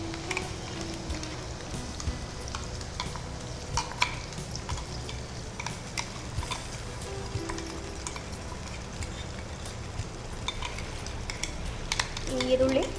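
Onion paste, with a little ginger-garlic paste added, fries in a pan while being stirred. A continuous, close sizzle runs throughout, punctuated by light clinks and scrapes of a spoon against the metal.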